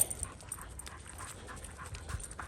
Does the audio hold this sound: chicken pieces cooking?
no